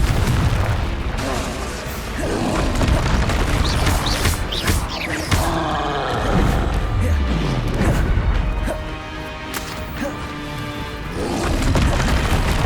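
Hogwarts Legacy battle with Expelliarmus and Confringo spells cast repeatedly: loud booming blasts, crashes and bursting pops pile up continuously, with a voice speaking over the fight.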